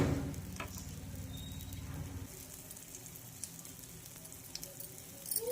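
Ghee sizzles softly in an appe pan around sweet appe made with fresh coconut and jaggery, a steady low crackle and hiss that carries on throughout with small pops here and there.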